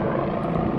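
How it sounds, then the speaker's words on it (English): A police helicopter flies overhead above Rostock, Germany, a loud steady rotor drone that holds without change, with no voices. "we got a helicopter, and yeah, that looks like it says police on it"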